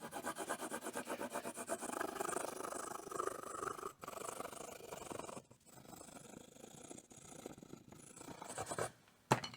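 Hand sanding with 180 grit sandpaper on a Telecaster guitar build, a quiet rhythmic scratchy rasp of rapid back-and-forth strokes that pauses a few times.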